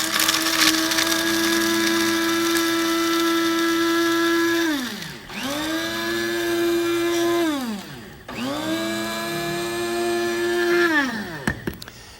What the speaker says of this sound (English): Now over here we've got some pistachio nuts. We're going to grind them up